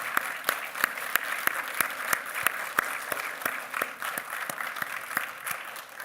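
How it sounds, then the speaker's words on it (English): Nursing graduates at a pinning ceremony applaud their parents and significant others, a steady, even stretch of crowd clapping with distinct claps standing out at a moderate distance, no talk over it. "I would like this class to actually applaud your parents and significant others"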